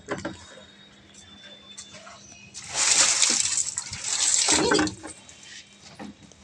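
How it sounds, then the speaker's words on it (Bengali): Water pours onto potted plants on a sunny rooftop, a broad splashing rush that swells for about two seconds, pauses briefly, then returns before fading, with quieter background sounds around it. "মা গাছে জল দিচ্ছে।"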